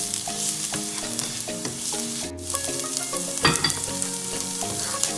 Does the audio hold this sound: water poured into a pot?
no